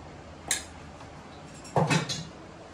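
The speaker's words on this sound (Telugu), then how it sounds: "ఇదిగోండి అల్లం వెల్లుల్లి పేస్ట్ అయితే వేసుకుంటున్నాను, ఒక 2 స్పూన్లు వేసుకున్నా." A metal spoon clinks twice against a cooking pot as ginger garlic paste is added for a curry, one short bright tap followed by a fuller scraping clatter, close and alone.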